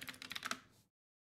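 Rapid keystrokes on a computer keyboard as a Linux command to restart a service is typed, a quick close burst under a second long that stops abruptly into silence.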